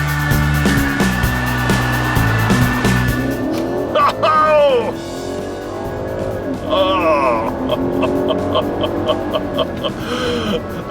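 A 2016 BMW 750i accelerates hard, its engine droning and rising in pitch through shifts over a steady road and cabin hum, with someone talking throughout.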